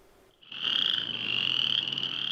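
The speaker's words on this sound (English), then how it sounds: "There are hundreds of them here in the Boisé-Tremblay area, and they're not shy about making themselves heard." Western chorus frogs call in a wetland in the Boisé-Tremblay area, starting abruptly into a loud, dense chorus of overlapping high trills that holds steady close by.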